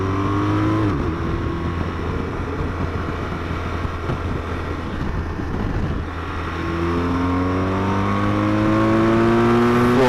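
A 2016 BMW R1200RT motorcycle engine starts up and revs, climbing in pitch from a steady idle drone, loud and close throughout with no talking.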